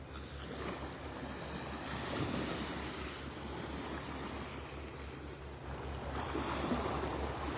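Gentle surf washing ashore on Vanderbilt Beach in North Naples, Florida, on a calm morning with the tide going out, a steady soft wash of small waves with some wind noise over the microphone.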